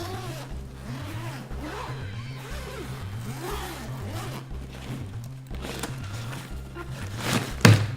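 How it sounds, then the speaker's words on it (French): A zipper runs along a hidden expansion gusset on a wheeled travel bag, a close rasping pull lasting several seconds over a steady low hum, ending in a short louder tug. "Vous avez un petit soufflet dissimulé ici, que vous pouvez ouvrir."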